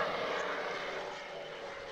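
A Spitfire fighter at a classic airshow, its engine a steady broadband drone that fades slightly over the two seconds, fairly distant with no talk.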